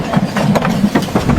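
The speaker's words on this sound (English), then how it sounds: "The train whistled and moved forward." A moving train gives a loud, close rhythmic rumble with clattering knocks repeating under a low steady drone, and no speech.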